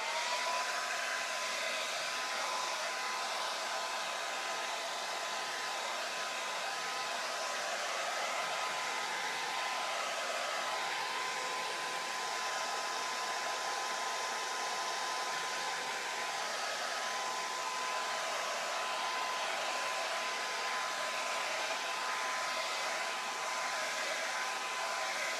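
A hair dryer runs steadily and loudly for the whole stretch, drying paint on a Halloween owl door hanger; an unbroken airy roar with a faint motor whine and no pauses or talk.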